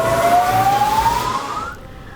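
A fire engine siren wails with a rising tone, loud and close at first and then cut off, sounding where crews are battling a forest and land fire.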